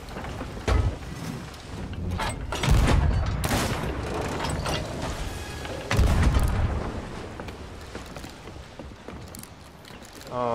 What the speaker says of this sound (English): Starboard side, it's where we need cannons here.